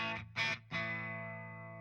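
Clean electric guitar played through a Walrus Audio Melee pedal switched to bypass, with distortion and mix at zero: two sustained chords separated by a brief, brighter strum, the last ringing out and slowly decaying, with no talking.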